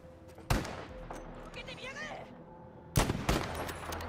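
Video game gunfire during a boat sniping match, with two sharp loud shots about two seconds apart, each followed by a short echoing tail, alongside voices in between.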